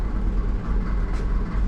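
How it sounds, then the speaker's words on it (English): A large squirrel cage exhaust fan in a workshop attic above a workbench gives a steady, low rumbling drone, continuous and moderately loud with no talking. "I got a big squirrel cage fan up top in the attic above the workbench."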